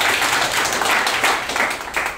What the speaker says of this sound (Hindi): चलिए इनके लिए भी जोरदार ताली हो जाए।